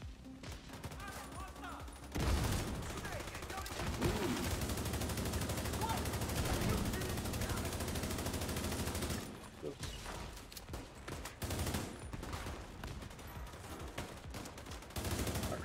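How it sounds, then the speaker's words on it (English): Heavy automatic gunfire in The Division 2 hammers in long, sustained bursts with brief pauses, loud and close, with occasional voices under the shooting. "I'm shooting these two dudes"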